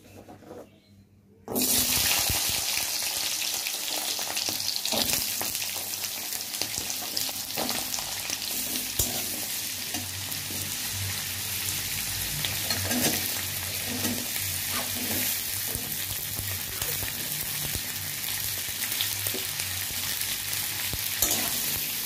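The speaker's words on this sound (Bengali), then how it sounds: "এখন আমি এই সবজিগুলো একটু ফ্রাই করে নেব এই তেলটার মধ্যে।" Vegetables hit hot oil in a pan beside fried dried fish, bursting into a loud, close, crackling sizzle after a quiet start and frying steadily with occasional stirring.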